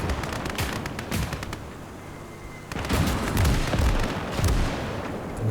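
A tank gun firing in Call to Arms: Gates of Hell, a Finland skirmish, comes through as loud booming shots among steady battlefield gunfire and explosions, with a heavy blast near the middle and more impacts after it.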